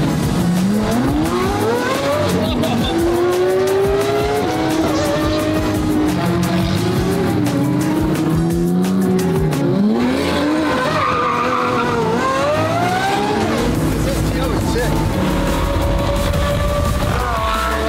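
Ferrari 458 GT3 widebody race car driving hard, its engine rising and falling through repeated revving sweeps with tire skids, loud and close for the whole stretch with no talk.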